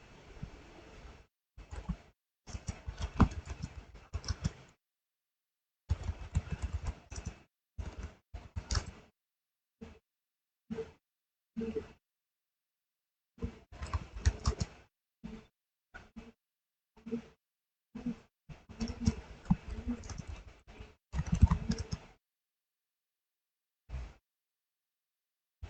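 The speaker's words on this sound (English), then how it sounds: "Okay, you can type your data here." Keys on a computer keyboard clatter in irregular bursts while text is entered in the vi editor on Red Hat Linux, with quick runs of close clicks separated by short silent pauses.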